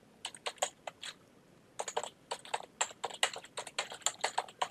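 Someone types a first name and an email address on a computer keyboard: quiet, irregular bursts of crisp keystrokes with a short pause in between, no voices.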